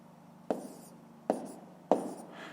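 A pen writes numbers on paper during a fifth-grade subtraction exercise, giving three short, sharp taps of the tip, each followed by brief faint scratching, close and quiet.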